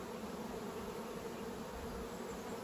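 Honey bees buzzing in an open hive while two colonies are combined with the paper method, a faint, steady, continuous drone with no talk.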